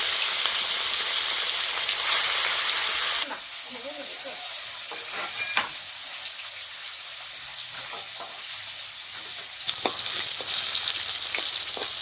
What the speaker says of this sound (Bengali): এই মাছগুলো আমি ভেজে নিচ্ছি